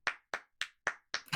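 Five sharp, evenly spaced hand claps ring out alone in quick succession, each crisp and close with a short decay, the last one followed by a faint extra sound.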